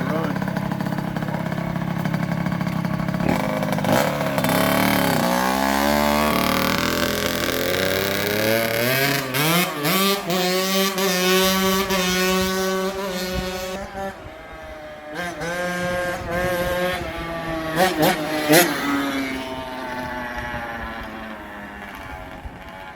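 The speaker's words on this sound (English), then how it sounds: "I'm gonna take it for a quick rip, see if I can't get it cleared out, running good." A Kawasaki KX60 mini dirt bike engine revs up and down repeatedly in a quick ride. Its rising and falling whine repeats for about twenty seconds, loud and close, with a voice speaking over parts of it.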